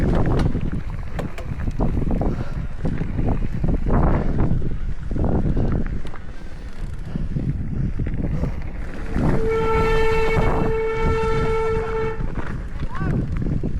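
A PNR train rumbles steadily past with heavy wind noise buffeting the microphone, and its horn sounds in a long, loud, sustained blast near the end; people talk faintly in the background.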